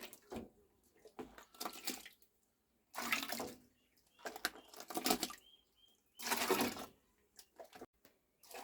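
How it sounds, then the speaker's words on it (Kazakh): Curdled milk poured from a container into a pot meant for boiling curd cheese, arriving in several separate splashing, gurgling pours with short pauses between them. "Енді осыны мен арнайы құрт және творог қайнататын кастрөліме құйып аламын"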